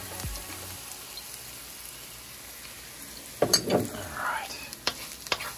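Garlic fries in extra virgin olive oil for plant-based tacos, a faint sizzle that swells into a louder crackle as it is stirred, with a brief spoken word near the end.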